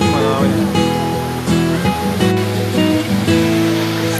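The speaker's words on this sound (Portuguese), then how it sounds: "Aqui essa queda aqui tem aquela outra lá em cima, lá, olha." Waterfall at Sete Quedas in Águas da Prata, São Paulo, a steady loud rush of falling water that fills the whole clip, heard close with no break.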